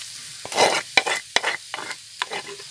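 Wood mushrooms fry in a masala mix and are stirred in quick, separate scraping strokes against the pan, each burst sizzling briefly, close and clear with no talk.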